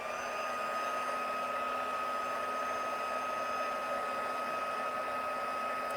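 A heat embossing tool blows hot air over paper, making a steady, even fan whir with a thin tonal whine that holds throughout without a break.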